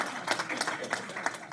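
Applause from the audience at a career panel discussion, a soft, continuous patter of many hands with a few louder claps standing out, heard under a speaking voice.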